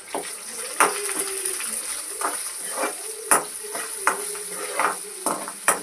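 Cumin rice roasts in a pan on low heat, with a soft steady sizzle and repeated scraping strokes of a spoon stirring the grains, close by.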